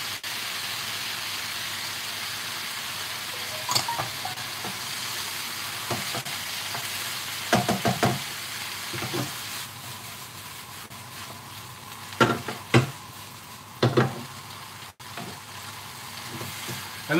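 Ribeye stir fry sizzling in a hot pan: a continuous loud hiss with repeated bursts of scraping and stirring spread through it, close up, and no one talking.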